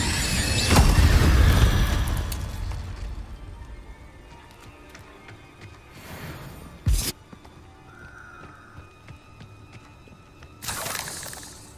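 A Confringo spell detonates in Hogwarts Legacy with a loud shattering boom that decays over a few seconds, followed by quieter game sounds, a sharp crack and another burst later on.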